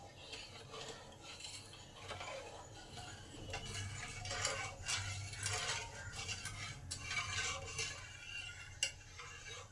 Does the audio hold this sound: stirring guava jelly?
yes